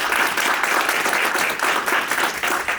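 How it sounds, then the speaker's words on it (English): An audience applauds guests at an Ash Center gathering at Harvard, a dense, steady burst of clapping from a room full of people. "So can we give them a round of applause for being here?"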